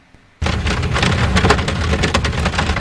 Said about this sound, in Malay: Tengah drive waktu hujan pada malam tu.